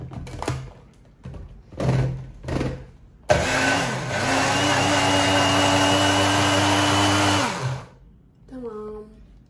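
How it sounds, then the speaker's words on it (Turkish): A food mixer whirs loudly for about four seconds, blending garlic, salt and yogurt sauce for a vegetable çılbır, after a few clunks and short spurts, then winds down to quiet. "Herhangi bir mikserle karıştırabilirsiniz."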